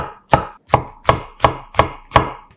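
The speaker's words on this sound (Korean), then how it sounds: "다시 한번 듬성듬성 작게 잘라줍니다" Knife chopping shiitake mushrooms into small rough pieces on a board, six crisp evenly spaced cuts, close and clear with no talking.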